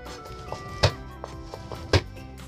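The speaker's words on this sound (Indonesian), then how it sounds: "3 siung bawang putih. Jangan lupa dicuci bersih dan ini saya geprek" Garlic cloves being smashed flat on a board in a home kitchen: two sharp, heavy thuds about a second apart, with lighter taps in between and no talking.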